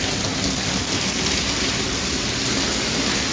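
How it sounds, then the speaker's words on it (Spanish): Heavy rainfall in Tamaulipas, Mexico drums down in a constant, loud wash of noise, close and uninterrupted, with no voices. "Reporto lluvia, chicos, lluvias horribles."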